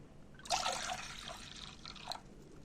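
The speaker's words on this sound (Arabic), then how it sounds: "غادي نديرو هنايا واحد 2 كيسان تاع الماء" Water from two small bags is poured into a cooking pot for a sweet prune and raisin dish, a steady splashing trickle starting abruptly and running for about two seconds before tapering off, fairly quiet and without voices.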